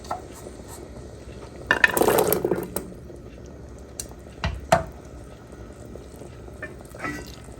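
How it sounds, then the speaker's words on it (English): A pot of winter soup cooking on the stove, a soft low bubbling and sizzle under faint kitchen clatter, with a brief stirring or lid scrape and a few light knocks. "Turn it down to simmer. Let that cook for about 10 minutes."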